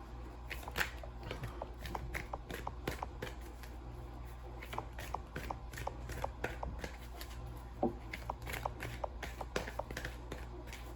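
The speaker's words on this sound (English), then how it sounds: "Now I'm going to get a Keeper of the Light Oracle card out for you guys." Keeper of the Light oracle cards are shuffled continuously, giving a faint, steady patter of soft riffling and tapping with no talking over it.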